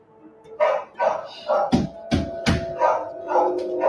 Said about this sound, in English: you hear the dogs barking